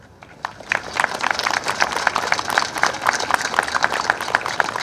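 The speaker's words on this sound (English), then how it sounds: "one more round of applause to all the members, active service members, and our veterans who have served in prior years" A crowd at a high school Veterans Day ceremony applauds with steady, dense clapping that swells and holds for several seconds.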